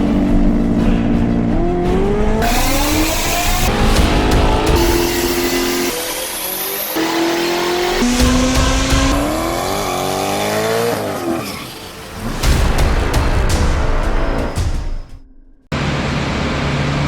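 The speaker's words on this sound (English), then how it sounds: "we do some quarter-mile passes on the dyno just for confirmation" A turbocharged Ford Coyote V8 car makes a simulated quarter-mile run on a dyno. The engine roars loudly and continuously, its pitch climbing and dropping with each gear change, then cutting off abruptly near the end.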